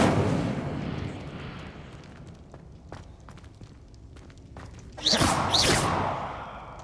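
A fire spell, Incendio, cast in the Hogwarts Legacy game erupts as a sudden loud whooshing burst of flame over scattered combat thuds and footsteps, swelling and then tailing off.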